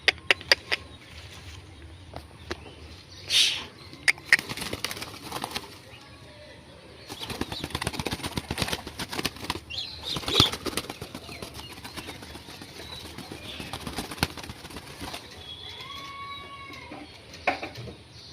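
Fancy pigeons, including white and cream lakkha, flutter at a home loft, with intermittent bursts of close wing flapping and rustling separated by quieter stretches.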